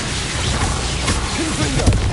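An Expulso spell explosion in Hogwarts Legacy on PS5, a dense blasting roar that fills the whole moment with a sharp pop near the end, while a voice speaks underneath.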